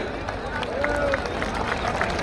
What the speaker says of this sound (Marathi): जोरदार टाळ्यांचा गजर